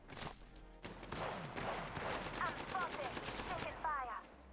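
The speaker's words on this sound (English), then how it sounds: "Shots." Rapid bursts of gunfire in the video game Apex Legends crackle in quick succession, fairly faint, with brief voices mixed in.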